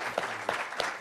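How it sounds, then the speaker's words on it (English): Audience applause at a film festival filmmaker talk, a short burst of clapping from the crowd in a hall with no speech over it. "Round of applause for Mark Monroe"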